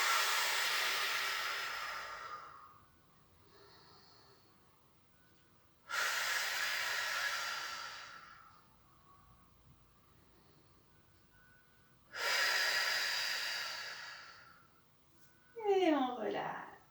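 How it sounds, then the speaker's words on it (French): Deep, slow breaths taken during a guided yoga stretch, three long airy exhalations spaced evenly at close range, with a brief sniff near the end. "Respire profondément."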